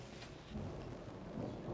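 Distant thunder rumbles low and continuously with a wash of rain noise over it, faint and steady throughout the short stretch, with no voices.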